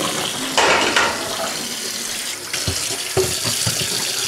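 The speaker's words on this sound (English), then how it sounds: "I just turn the tap right on in it" Water runs from a sink tap into a basin, a steady close splash with a few clunks and thumps of something being moved in the sink.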